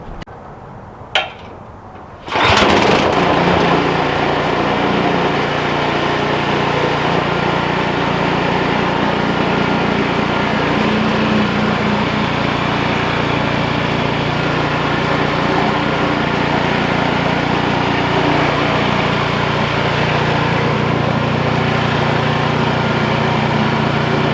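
An Ariens Platinum 28 SHO snow blower with Rapid Trak fires up after a brief click and settles into a loud, steady, close engine drone that runs on without a break.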